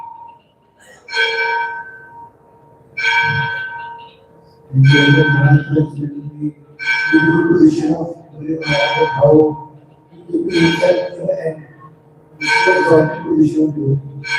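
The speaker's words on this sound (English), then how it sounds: "Just wait till the bell stops." Bell ringing in an ISKCON temple during a Bhagavatam class, seven or so evenly spaced ringing strikes roughly every two seconds, each with a bright decaying tail, fairly close and alone.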